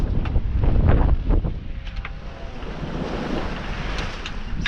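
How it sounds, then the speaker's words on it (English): Large ocean swell rolling past a sailboat at sea, with whooshing water and wind gusting across the microphone, loudest at the start and then settling into a steadier wash with occasional splashes. "the swell are kind of huge"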